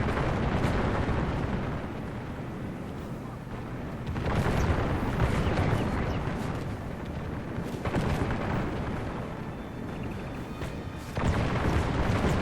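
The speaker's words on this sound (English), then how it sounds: "Right here, the bullets do not stop. They just continuous gunfire." A battle in a strategy video game produces continuous gunfire and booming volleys that merge into a dense, rumbling roar, swelling and easing in waves with no break.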